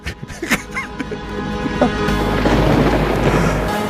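A thunder sound effect cues a podcast lightning round: a few brief scattered sounds at first, then a deep rolling rumble that swells and holds loud to the end.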